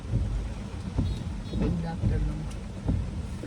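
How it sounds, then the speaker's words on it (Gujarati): Heavy rain falls steadily as a broad, continuous hiss, with occasional low rumbles and thumps mixed in throughout. "બહુ વરસાદ છે, તમે જો દેખાય છે, બહુ જ વરસાદ છે"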